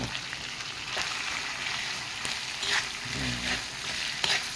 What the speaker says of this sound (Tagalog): Haluin na natin para yummy nito mga kaibigan.